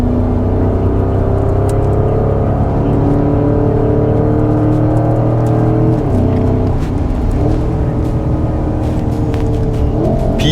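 Porsche Cayenne lapping Sepang circuit through corners, heard from inside as a loud, steady engine drone holding pitch, then dipping and shifting around a gear change before rising again.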